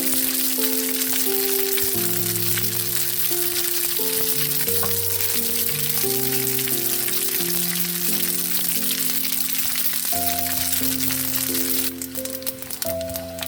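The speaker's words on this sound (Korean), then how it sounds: "만두피가 노릇노릇해질 때까지 튀겨주세요." Dumpling wrappers deep-frying in hot oil until golden, giving a constant loud sizzle under steady background music, with a sharper crackle near the end.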